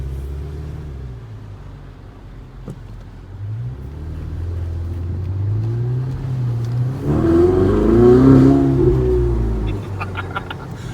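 Ferrari 488 Spider engine while driving, a deep steady rumble that builds into a louder rising rev near the end, heard from inside the car with no talk.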